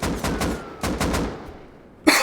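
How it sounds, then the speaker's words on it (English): Gunfire in the video game Rust during a team conquest raid: a rapid string of shots in bursts, then a brief pause and a final loud crack, fairly close and sharp. "explosions going out from the raid tower as shots are being fired down there by Beachills"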